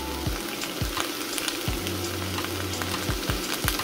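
Mixed vegetables stir-fried quickly in a pan for pancit miki noodles, with black pepper, garlic powder and salt added, a loud continuous sizzle broken by repeated scraping strokes of a spatula, close by.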